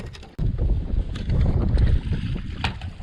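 Fishing boat outboard motor idling on a windy lake below a power plant spillway, a steady low rumble with wind buffeting the microphone throughout.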